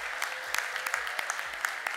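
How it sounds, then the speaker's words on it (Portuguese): A small group claps steadily, with crisp, fairly close individual handclaps in a loose, continuous rhythm. "então um aplauso para a equipe da África que está ali."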